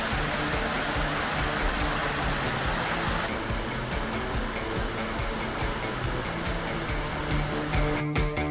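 Water slides down a gully at a falls in Cuyahoga Valley National Park, producing a dense, constant rushing roar heard alone and close throughout.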